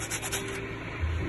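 Rubbing and scrubbing on an engine cylinder liner blackened by compression leakage, a steady close dry scraping friction that runs continuously with a low thump near the end.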